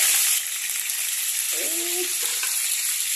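Pointed gourds (potol) fry in hot oil in a pan with a bright, hissing sizzle, joined midway by a brief scrape and clatter of stirring.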